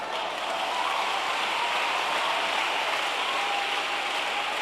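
Steady rainfall pouring down, a dense, even hiss of drops that holds constant from start to finish, with no voices.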